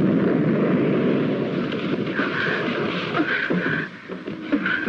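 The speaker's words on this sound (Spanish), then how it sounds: "dispararé los cohetes traseros." A television sci-fi spaceship fires its rear rockets, producing a loud, sustained roaring rumble that stays heavy and continuous before easing slightly toward the end.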